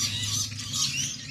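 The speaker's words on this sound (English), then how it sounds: "this is the time where all the rainbow lorikeets come out" Rainbow lorikeets squawk in trees, a dense, continuous chatter of shrill overlapping calls from a flock close by, with steady background noise beneath.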